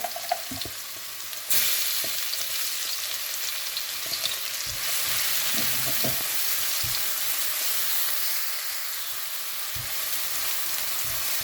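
Crushed onion, chili and garlic drop into hot oil with mustard seeds, jumping into a loud, close sizzle that settles into a steady crackling fry, with a few faint knocks of stirring and no voices.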